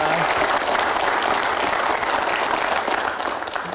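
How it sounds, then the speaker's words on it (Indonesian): A studio audience breaks into sustained, dense applause at a talk show, a loud, steady wash of clapping that holds for several seconds before beginning to taper at the end. "berikan aplaus untuk prestasi yang luar biasa"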